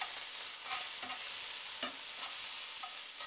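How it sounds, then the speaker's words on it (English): Garlic and eggplant are stirred in a hot frying pan, giving a steady bright sizzle with soft, periodic scraping strokes of the utensil, close up and with no voices. "Thoroughly stir the garlic through the eggplant."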